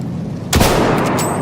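Battlefield 1 K bullets striking a surface: a single sharp, loud impact bursts in abruptly, then rings into a dense, sustained crackling wash with a couple of fainter follow-up hits.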